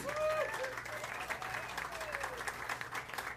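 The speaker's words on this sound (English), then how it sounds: "Give him a round of applause." An audience at a jazz club applauds a pianist with a dense, steady round of clapping at moderate distance, while a host's voice carries over the clapping.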